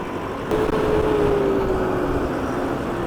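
A New Holland WorkMaster 105 tractor with a loader and air ride seat drives past, its engine a steady low drone with a faint whine rising and falling through a gentle pass.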